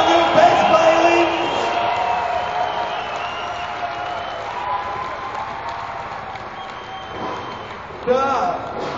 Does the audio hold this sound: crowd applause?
yes